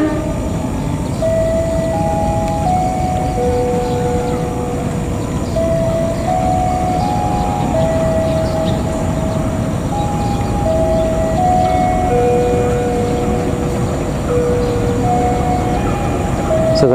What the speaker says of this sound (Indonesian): terlebih dahulu masuk kereta api lokal yang berangkat dari stasiun Padalarang menuju tujuan akhir stasiun Cicalengka